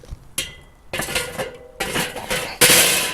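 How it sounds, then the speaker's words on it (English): Metal grill grates clank and clatter as they are set onto a Weber Performer grill, several sharp close metallic bangs and rattles in quick succession. "I'm gonna throw these grates on, let the grill come up to temperature."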